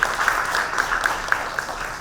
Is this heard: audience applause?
yes